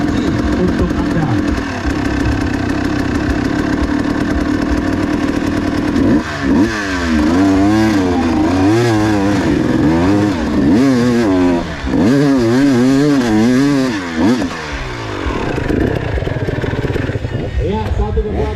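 Motocross motorcycles on a steep hill climb contest roar loudly and continuously, their engines rising and falling in repeated revving surges, with an announcer talking over the noise throughout.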